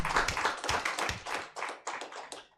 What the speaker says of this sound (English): I will want to ask you to have a thunderous clap for Professor Ben Twinomugisha.